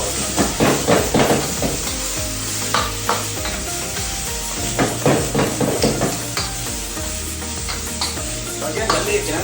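Squid frying in a hot pan, a loud continuous sizzle with crackling bursts and occasional stirring scrapes, close up and with no talking.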